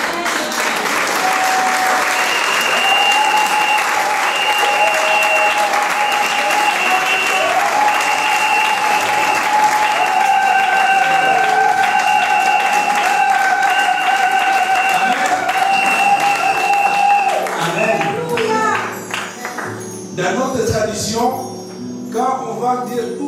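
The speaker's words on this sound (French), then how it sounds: "ce sont des acclamations de joie" A church congregation bursts into sustained, loud applause and joyful cheering after an anointing, with dense clapping and raised voices continuing steadily for about eighteen seconds before fading into scattered claps.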